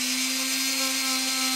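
A power tool buffing wax onto a shoe, a steady high whirring drone with a constant motor tone, close and unbroken for the whole stretch, with no voices.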